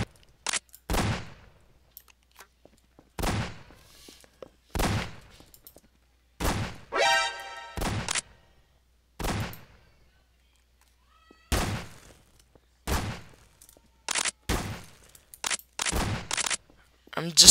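A tranquilizer gun fires in Garry's Mod, producing single sharp shots spaced a second or two apart with silence between, plus one brief tonal cry in the middle.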